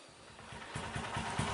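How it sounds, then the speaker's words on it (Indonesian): Motorcycle engine running after a 200cc bore-up cylinder block swap, a steady close idle with a rhythmic low pulsing beat that grows slightly louder toward the end, no voices over it. "Ini ya, untuk suara mesinnya."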